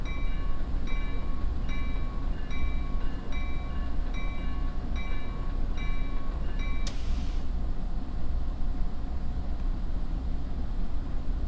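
In the Train Sim World 2021 video game, a passenger train accelerates on the Penn Line between Washington DC and Baltimore. A constant heavy rumble carries a repeating tonal pulse, then a brief burst of hiss near the end.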